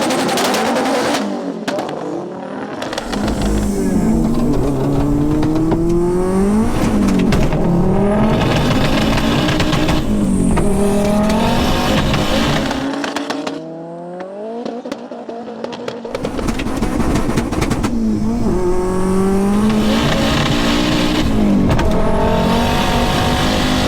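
Two 600 BHP cars, a Ford Focus RS and a Vauxhall Astra VXR, drag racing: engines scream through rising gear changes close by, with a short lull midway before another hard run.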